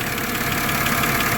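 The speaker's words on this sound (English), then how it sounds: "I know it's loud, you know, right next to the engine" Engine of a 2007 BMW X3 E83 running loudly right beside the open engine bay, a steady close-up drone with a rough, knocking mechanical texture and constant vibration.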